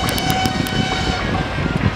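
Freight service train rolling past, loud and close, with a steady rumble and clatter of cars and a few sharp high ticks near the start.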